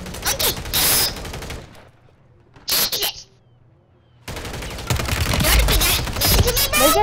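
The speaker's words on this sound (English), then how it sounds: "shit, man, I'm taking fire." Bursts of automatic gunfire from a Call of Duty match, loud rapid volleys broken by a short quiet gap, then a sustained heavy barrage.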